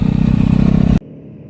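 Loud, steady motorcycle engine running close by with a rapid, throbbing beat, cutting off sharply after a second to a faint, muffled rumble.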